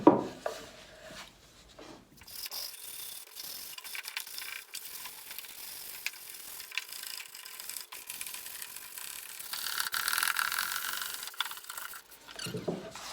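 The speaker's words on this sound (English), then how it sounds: "So that's one drawer sanded." Steady rasping and rubbing from sandpaper worked inside a wooden console table drawer, a fairly quiet continuous scratching that swells slightly toward the end, bracketed by brief louder knocks at the start and finish.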